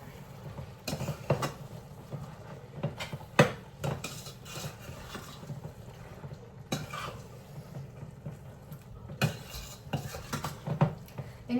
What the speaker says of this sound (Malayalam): ഇതെല്ലാം കൂടി ഒന്ന് മിക്സ് ചെയ്ത് കൊടുക്കുകയാണ്.